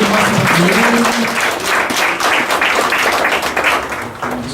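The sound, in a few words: audience applause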